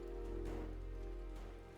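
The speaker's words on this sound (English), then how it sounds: "Rain detected." Steady rain falls in the video game Teardown, a continuous dense patter that stays fairly loud throughout over a low sustained background drone.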